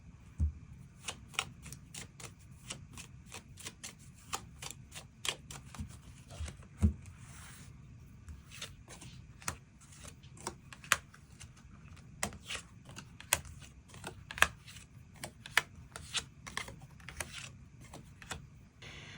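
Tarot cards being shuffled and drawn by hand, a long run of quick papery flicks and riffles, close and crisp, with a soft rustling bed between the sharper snaps.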